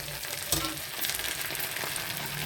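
Steady crackling sizzle of tempering spices spluttering in hot oil for Andhra pappu charu, close and continuous with small popping bursts, no talk.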